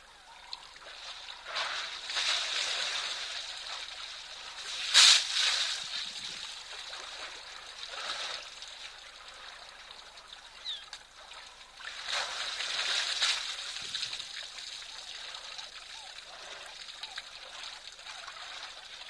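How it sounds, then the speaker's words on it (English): Water from an elephant's trunk splashes onto its body and patters back down in soft, irregular bursts. A steady trickling hiss lies between the splashes, which swell several times across a quiet outdoor scene. "You can hear the water hitting him and then falling back down again."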